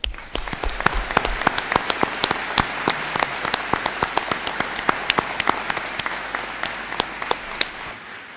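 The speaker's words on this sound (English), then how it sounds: "So please join me in applauding our graduates." Applause rises for graduates at a community college commencement ceremony: sustained clapping from a large audience, with sharp individual claps standing out above the steady patter throughout.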